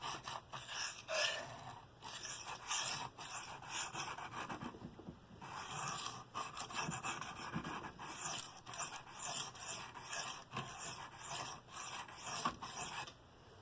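A Bestech Scimitar knife is sharpened freehand on a coarse stone, giving a close, steady series of raspy back-and-forth scraping strokes with brief pauses between passes and no talking.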